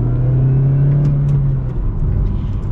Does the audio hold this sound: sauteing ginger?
no